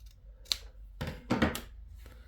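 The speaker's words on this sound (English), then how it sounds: "Now trim the seam fairly close, like so." Scissors trimming close along a fabric seam on a sailor hat: a few crisp, short snips in quick succession, close and quiet, with no talk.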